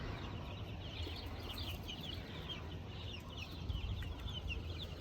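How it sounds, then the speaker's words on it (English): A brooder full of young birds, Welsummer chicks, silkies, Cornish Cross meat birds and Khaki Campbell ducks, fills the air with constant busy peeping and soft clucking, close and dense over a low background rumble. "We have Khaki Campbell ducks, Welsummer chicks, all the silkies, and meat birds, which are Cornish Cross."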